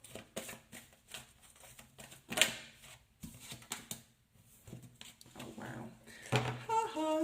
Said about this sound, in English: I'm just going to give this a bit of a shuffle.